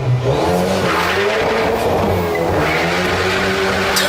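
A Hyundai Veloster N with its 2-liter turbo engine roars loudly through its exhaust, a strong sustained engine note rising and shifting in pitch with a brief tire squeal, close and unbroken, with no voices.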